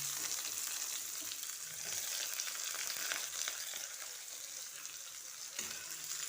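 Small shallots sautéing in a pan for a Tamil-style fish curry, a soft continuous sizzle with occasional faint stirring, heard close and fairly quiet with no talking.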